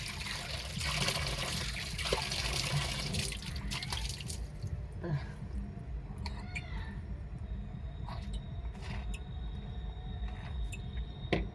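Water runs and trickles steadily during a bath, a continuous wash of flow with scattered drips and splashes close by, loud throughout with no talk.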